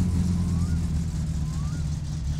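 A repaired car engine idles steadily in My Summer Car, a low droning rumble holding constant throughout with no revving, close and continuous.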